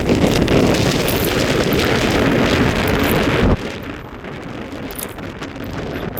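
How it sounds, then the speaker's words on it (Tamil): Strong gusting wind buffets the microphone at the site of a fuel tanker crash where diesel has spilled, a loud steady roar that drops sharply in level partway through and then continues more quietly. "பயங்கர காற்று இந்த இடத்துல"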